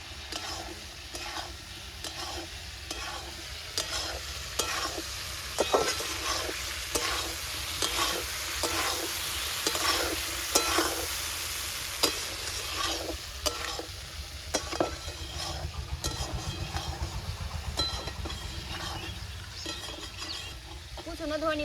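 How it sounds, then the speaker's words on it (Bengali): Lentil fritters frying in fish oil in a pan while being stirred, a loud continuous sizzle broken by repeated scraping strokes of the spoon, close and without talk. "এবার আমি বড়াগুলা দিয়ে দেবো ভালো করে কষিয়ে নেবো আমি"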